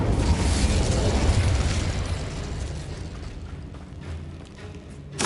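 An Incendio fire spell bursts in Hogwarts Legacy with a loud booming explosion that rolls into a crackling, rumbling fiery tail and fades, then a sharp new burst at the very end.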